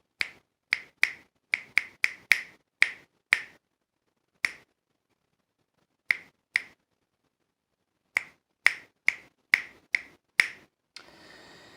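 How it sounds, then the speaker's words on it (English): Fingers snap in sharp, crisp clicks, about twenty in all, in irregular groups with short and long pauses forming varied rhythms, close and clear with no talking. "When I snap my fingers, the longer or shorter I wait between I snap my fingers creates different rhythms."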